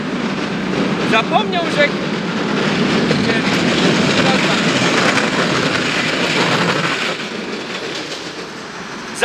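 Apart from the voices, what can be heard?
tram passing by, loud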